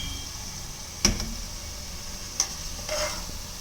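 Onions and chicken fry in a pan with salt added, a quiet sizzle under a few sharp clacks of a utensil stirring against the pan, spaced about a second apart.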